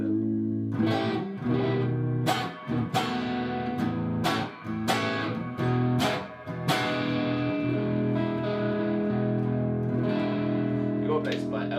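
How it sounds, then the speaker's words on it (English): An electric guitar with Filtertron mini-humbucker pickups rings out through heavy reverb, with several struck chords and single notes that sustain and wash into long, echoing tails, sounding close and fairly loud. "There's a lot of reverb."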